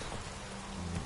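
Steady rain pattering in The Witcher 3, a short wash of dense drops with a low rumble beneath, no talking.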